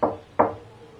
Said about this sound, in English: You're on the other side of this door knocking.